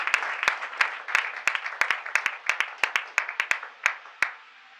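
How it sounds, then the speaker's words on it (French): An audience applauds at a certificate ceremony, a modest crowd clapping steadily for several seconds with sharp individual claps standing out near the microphone as the applause tapers off. "Applaudissons, toujours sous les applaudissements,"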